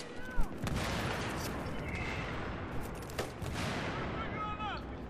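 Rapid gunfire and distant battle noise in Battlefield 3, with a loud close shot near the start and a steady wash of combat sound throughout.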